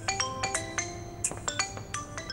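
A phone ringtone chirps in a shop setting, a quick pattern of bright repeating electronic tones in short bursts, fairly faint and close, with no talk over it.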